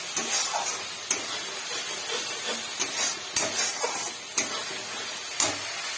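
A spice paste masala for kochur loti with prawns fries in oil with a continuous crackling sizzle, broken by sharp scraping stirs of a spoon at irregular intervals.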